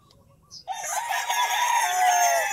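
A rooster crows loudly and close by in one long, sustained call, with faint clucking from chickens beforehand.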